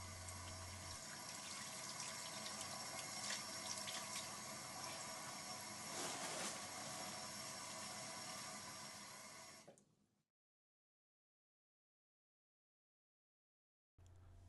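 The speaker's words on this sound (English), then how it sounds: "Then, properly wash and dry your hands." Water runs steadily from a tap for hand washing, a close, even rush with no voices that stops abruptly after about ten seconds, then brief silence.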